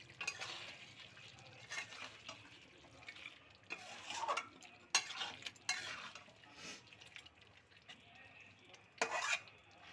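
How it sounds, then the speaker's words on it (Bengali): Coriander leaves being stirred into chicken kosha in a pan, with scraping and clinking of a spoon against the pot in uneven bursts, a few sharper knocks standing out, no talk. "এবার ধনেপাতাটা আমি একটু মিশিয়ে দিই মাংসের সাথে।"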